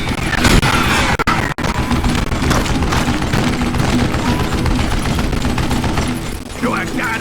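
Continuous heavy gunfire fills Call of Juarez: Gunslinger: dense rapid shots and machine-gun bursts sound loud and close for several seconds, with a couple of brief gaps and a voice speaking near the end.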